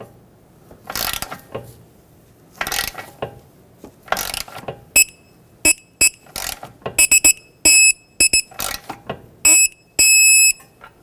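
A wrench ratchets a castle nut onto a steering knuckle of a 2006-2010 Hyundai Sonata, giving loud, close runs of sharp metallic clicks in irregular bursts with brief gaps and dull knocks between them.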